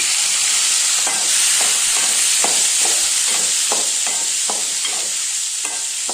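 Tomato, onion, garlic and tamarind sautéing together in a pan, a bright continuous sizzle with a regular series of spatula scrapes and taps about every half second, close and loud, no talking.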